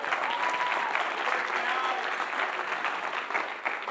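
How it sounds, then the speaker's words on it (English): A lecture audience breaks into loud, dense applause for a team member, sustained evenly across the whole stretch with a few faint voices mixed in. "give him a round of applause for Jason"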